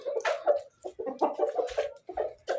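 Chickens clucking repeatedly in a village setting, with choppy, irregular bursts of close, fairly loud hen and rooster calls and brief pauses between them; no talking.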